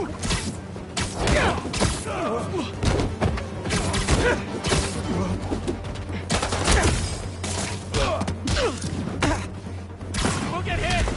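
Gunfire in a Spider-Man video game, dense and chaotic with rapid overlapping shots, thuds and impacts over game music, with voices calling out amid the action.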